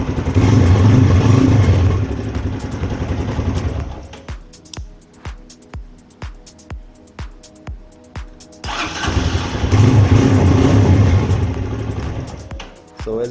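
A motorcycle engine with its ignition cut by a kill switch cranks without starting, a rhythmic series of about eight starter-driven chugs between stretches of louder engine noise, recorded close up.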